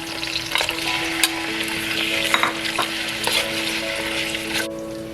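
Lightly salted shrimp added to a pan of frying onion sizzle loudly and steadily, with repeated scraping strokes of a spatula stirring them through the hot oil.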